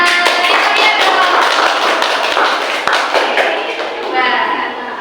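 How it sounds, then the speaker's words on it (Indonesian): A group of students and adults claps together in a classroom setting, a loud, steady burst of many overlapping hand claps that continues for several seconds before gradually thinning out. "Tepuk tangan buat kita semuanya."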